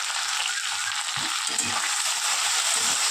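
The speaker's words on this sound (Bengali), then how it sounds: "এবার সবজিগুলো খুব ভালো করে ভেজে নেব" Vegetables fry and sizzle in hot oil with salt for a Bengali pui shak chorchori with jackfruit seeds, taro and prawns: a steady close sizzle with a few soft stirring scrapes, no talking.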